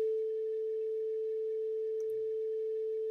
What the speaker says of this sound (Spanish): Otra vez tenemos un tono puro,